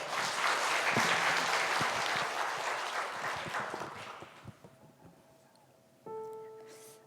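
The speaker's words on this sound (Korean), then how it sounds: "우리 큰 박수로 격려해 주셨으면 좋겠습니다." A church congregation applauds at a new-members completion worship service, the clapping sustained and moderately loud before tapering off, followed by a brief tonal sound near the end.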